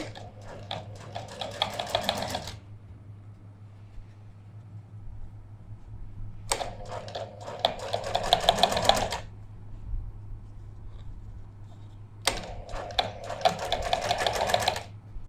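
A sewing machine stitches buckram pasted to fabric for a shirt collar in three bursts of rapid, close mechanical chattering, each lasting two to three seconds, with quiet pauses between and a low steady hum underneath.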